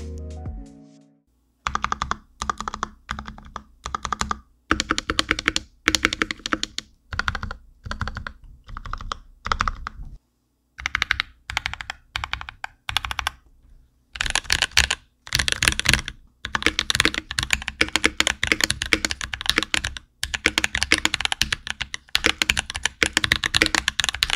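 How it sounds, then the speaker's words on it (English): Rapid clacky keystrokes on a Novelkeys NK65 Entry Edition mechanical keyboard with Evereglide switches, close up, typed in bursts with short pauses between runs, with no voices. "now that the keyboard's together, it's time for a sound test"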